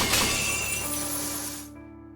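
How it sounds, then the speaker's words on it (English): Chains shattering in the visual novel game Fate/Stay Night: one bright, glassy burst of breaking that rings on and then cuts off abruptly, heard alone. "The chains are broken."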